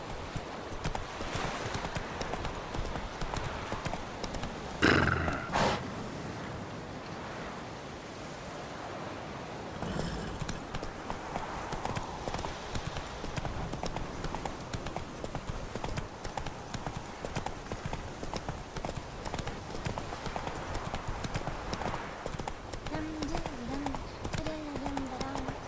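In-game horse Roach galloping with rapid, continuous clip-clop hoofbeats over an outdoor ambience, steady and close throughout.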